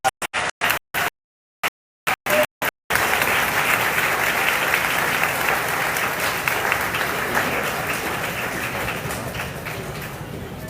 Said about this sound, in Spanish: Por favor, un fuerte aplauso para la señora Casaus.